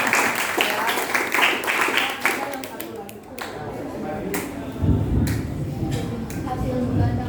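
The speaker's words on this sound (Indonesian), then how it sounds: "Tepuk tangan buat kelompok." A class gives a round of applause for a student group, clapping in dense bursts early on and then thinning into scattered claps with some shuffling and noise in the room.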